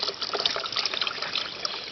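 Tap water runs steadily into a container to rinse tomato seeds, a continuous close trickle and splash with no talk.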